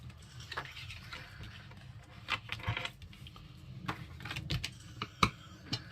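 A bone folder creasing folds in paper for an Easter explosion box craft, giving a string of close, quiet taps and scraping strokes that come in short, uneven bursts with no talk.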